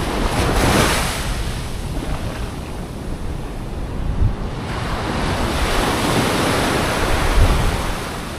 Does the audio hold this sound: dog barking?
no